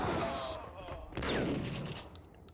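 Grenade explosions in the video game Max Payne on PC, two heavy blasts about a second apart, the second louder and followed by a rumbling decay, with game noise and a voice underneath.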